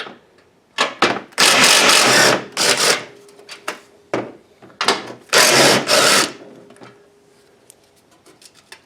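A hand ratchet clicks quickly while loosening 12mm starter bolts on a Honda 3.0 VTEC engine. It comes in several loud, close bursts with pauses between them and no talking.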